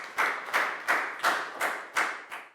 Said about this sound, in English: a big round of applause for Pak Bung, please, guys.